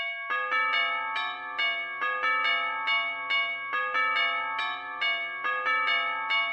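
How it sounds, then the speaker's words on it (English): Tubular bells play a repeating melodic pattern in a hip-hop beat, with bright, ringing strikes falling in a steady rhythm over a soft low pulse and lingering decays between notes. "right over here, we got some tubular bells playing"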